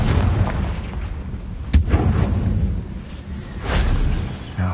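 A Confringo spell explosion from the Hogwarts Legacy video game bursts with a sharp blast, then rumbles on in a dense, loud wash of combat effects, with a second swell near the end.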